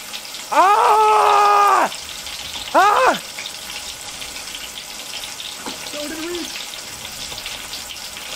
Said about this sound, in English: Schism has played frying chicken.